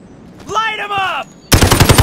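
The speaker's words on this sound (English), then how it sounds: "Return fire! Look out! Enemy machine gunner!" Machine gun fire in a plastic toy army men stop-motion battle, a dense, loud rattling burst coming in abruptly after a shouted voice, close and continuous to the end.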